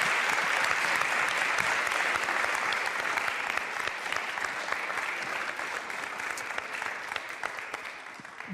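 Sustained studio audience applause on a French television variety show, a dense, steady wash of many hands clapping that stays loud throughout and eases slightly toward the end, with no talking over it.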